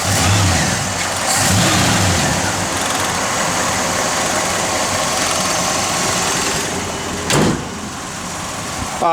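A 1966 Chevrolet Malibu engine runs close by, a steady, fairly loud hum with a slight rise in revs and a brief sharp sound near the end.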